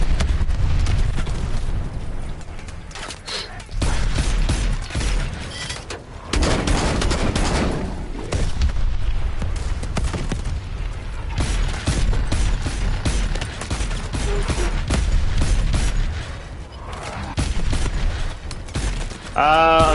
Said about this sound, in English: He's using his goddamn missiles.